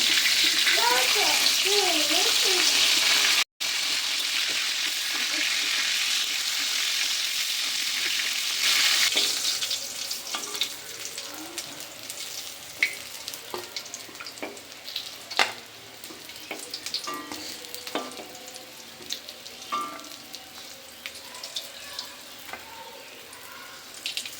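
Biget fish frying in oil in a home kitchen, heard as a strong continuous sizzle with a voice over it at the start, then quieter crackling and spitting with occasional clatters of the pan.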